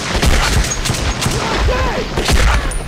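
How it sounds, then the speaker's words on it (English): A rapid volley of gunfire from the video game Metro 2033 fires in close, loud bursts, with overlapping shots and faint game sounds between them. "And it took all those shots to take him down."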